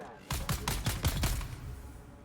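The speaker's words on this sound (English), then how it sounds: "Oh shit, I'm getting shot at." Rapid bursts of gunfire in the video game Dune: Awakening, a quick string of loud shots lasting about a second, up close and without talk.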